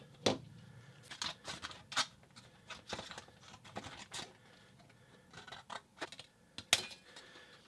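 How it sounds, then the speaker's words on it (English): Regular scissors snipping a length of zinc for an anode, heard as a series of sharp, close metallic clicks and snips at an irregular rhythm against a quiet background. "I'm just going to cut off a length of this. You can just use regular scissors."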